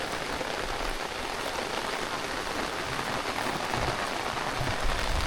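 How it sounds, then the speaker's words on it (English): Heavy rain pours down steadily in Bohol, a dense, loud hiss of drops drumming on surfaces with no pauses. "It is raining hard"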